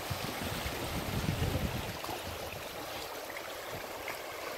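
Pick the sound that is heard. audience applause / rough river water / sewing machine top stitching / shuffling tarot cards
rough river water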